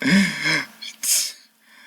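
A voice makes an exaggerated vocal sneeze: a drawn-out inhale followed by a sharp, hissing burst, short and close.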